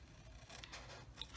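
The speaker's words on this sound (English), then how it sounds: "take your scissors and you wanna snip up these score lines" Scissors make a few quiet snips through scored paper for a Stampin' Up! papercraft project, close up and soft against a low background hiss.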